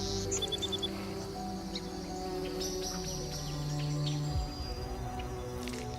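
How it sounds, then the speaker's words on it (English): Cicadas drone monotonously in the dry Serengeti, a steady layered insect buzz with a few faint chirps, continuous and moderately loud throughout. "The sound of cicadas chirped monotonously, blending with the wind to form a dry song of nature."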